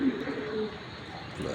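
A female Hungarian Budapest pigeon gives a short, low coo close by, heard over a faint steady background hum.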